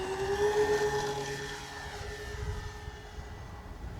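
A FlightLine B-25J Mitchell RC model airplane flying in wind, its engines giving a steady droning hum with a sustained tone that drifts in pitch as it passes, moderately distant and fading slightly.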